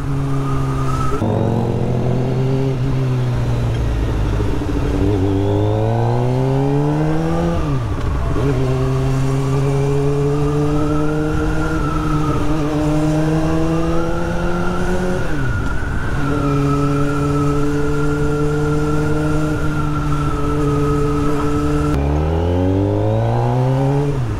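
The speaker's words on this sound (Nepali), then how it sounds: "मेरो बाइकको साउन्ड पनि अलिक ठुलो भइरहेको जस्तो फिल भएको छ" A sport motorbike engine drones loud and close while riding through Hong Kong streets, its pitch climbing through gear changes with several sharp drops and rises, steady rushing wind underneath throughout.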